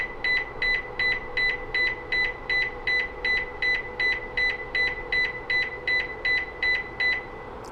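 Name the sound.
Lexus NX buzzer beeping via remote app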